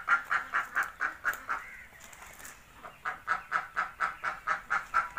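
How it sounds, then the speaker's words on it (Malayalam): Farm-raised native ducks quack in a quick repeating series, pause for about a second, then resume the steady run, close by and without voices. "നാടൻ താറാവ്."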